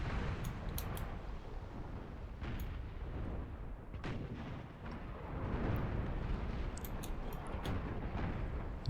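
Ship artillery fire in a naval battle of the strategy game Empire: Total War, a steady rumbling barrage of cannon booms with sharp crackling reports layered over it, continuous and loud throughout with no talk.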